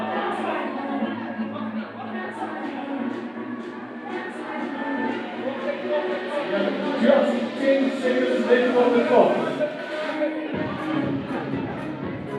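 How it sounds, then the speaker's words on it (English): A crowd shouts and cheers for competitors at The Fittest South Africa 2022 fitness event, a dense, continuous roar that swells slightly toward the end, with an announcer talking over it. "It's so nice to hear the crowd shouting for their competitor, their loved one."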